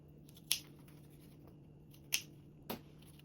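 Pinking shears trim the bottom edge of a fabric sling strap in three crisp, separate snips, the last two close together, against a quiet room.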